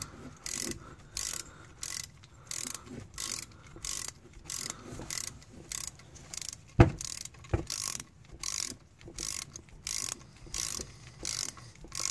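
A ratchet wrench with a 15 mm socket turns the belt tensioner on a 2008 Mazda, giving close, crisp bursts of rapid clicking in regular repeated strokes, with a sharp knock partway through and no talking.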